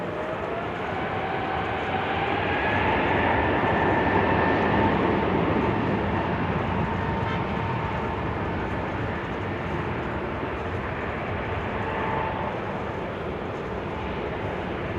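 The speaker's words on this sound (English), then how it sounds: "It's an A320neo." A year-old easyJet Airbus A320neo airliner drones at Amsterdam Schiphol Airport in showery weather, a continuous moderately distant jet engine roar holding steady throughout with no voices.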